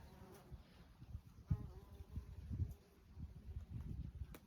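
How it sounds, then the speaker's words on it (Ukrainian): Bees and bumblebees buzz low and close among blooming marigolds outdoors in autumn, a wavering drone that rises and falls as insects pass near, with faint rustling in the background. "Багато-багато цвітуть чорнобривці і багато-багато різних комах. Дивіться, скільки метеликів, бджіл, шмеликів тут."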